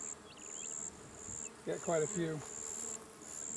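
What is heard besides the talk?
bees buzzing in a hive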